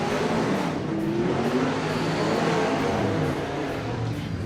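The number 14 Pure Stock race car, driven by Scott Grunert, runs at Placerville Speedway during a pre-season test and tune session, its engine droning and revving steadily for several seconds, loud and close, with no talk over it.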